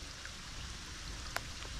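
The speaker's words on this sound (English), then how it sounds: "I'm doing all this other stuff and it's raining." Cold rain falls steadily outdoors around a backyard pool, a faint, even hiss of drops with one brief tap near the end and no talking.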